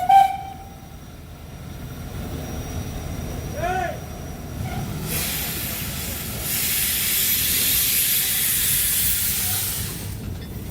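The Arjoeno steam locomotive at PG Rejosari sugar mill pulls away, giving a short whistle toot and then a loud sustained rush of hissing steam, with low rumbling movement underneath.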